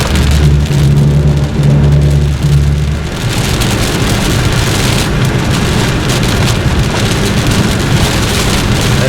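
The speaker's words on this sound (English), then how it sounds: "That storm is coming across the fields with great tenacity." Heavy rain from a thunderstorm sweeps across open fields in Minnesota, a loud, steady wash of downpour with low rumbling at first, continuous and close with no voices.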